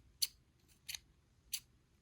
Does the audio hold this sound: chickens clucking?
no